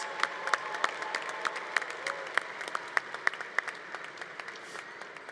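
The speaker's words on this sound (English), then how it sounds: "give your family, friends, loved ones, and supporters here today a big round of applause" Graduates at a convocation applaud their families, sounding as scattered, distinct hand claps, some sharp and close, over a softer wash of more distant clapping, moderately loud and gradually easing.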